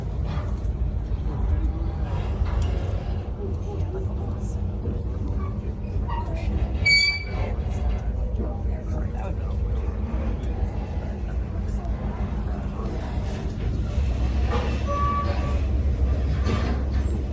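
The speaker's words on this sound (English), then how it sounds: "Trains are noisy." A train rumbles steadily along the rails close by in Jim Thorpe, Pennsylvania, with a deep continuous roar and occasional metallic squeals over the wheels.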